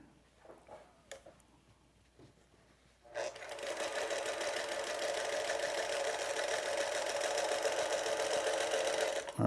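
A sewing machine stitching quilt pieces for a disappearing nine-patch quilt starts up after a few quiet seconds of faint handling noise, then runs in a steady, close, whirring hum to the end.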